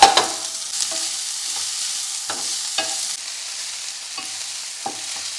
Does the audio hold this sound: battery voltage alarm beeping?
no